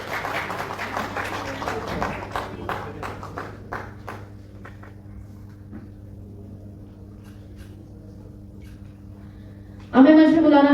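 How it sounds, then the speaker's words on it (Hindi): At an award ceremony, an audience claps for a recipient, the applause dense at first, then thinning to scattered claps over a low hum before a sudden loud burst of sound at the end. "जोरदार तालियां बजाकर उनका उत्साह बढ़ाइए।"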